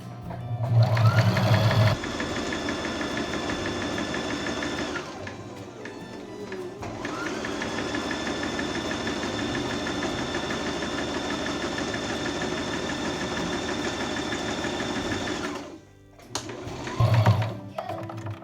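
A sewing machine runs in long steady bursts while stitching a nightgown, a loud continuous motor whir with a fast needle rhythm that pauses briefly between passes, then a short rattle at the end.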